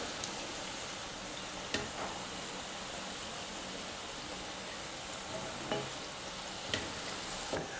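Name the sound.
vada (lentil fritters) deep-frying in oil on medium flame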